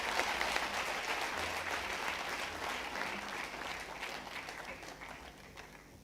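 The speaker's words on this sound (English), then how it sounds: "Let us warmly welcome our guest with a huge round of applause." A university audience in Pune applauds to welcome a guest on stage, dense sustained clapping from a large crowd that slowly fades toward the end.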